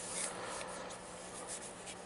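Flat sanding of cleaned carburetor parts from a 1951 Kaiser, a steady close abrasive rubbing with light rhythmic strokes, continuous and fairly quiet throughout with no talking.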